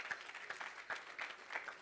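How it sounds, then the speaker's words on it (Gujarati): An audience at a religious katha gathering at Vadtal Dham claps in scattered, faint applause, with several distinct claps standing out from a thin background of hands. "તો જોરદાર તાળીઓથી આ બધાને પણ વધાવી લઈશું"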